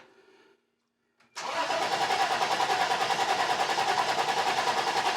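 A 1990 Toyota 4Runner engine turns over on the starter during a compression test: after a brief quiet gap, loud rhythmic cranking begins abruptly and continues steadily and close, each compression stroke pulsing evenly.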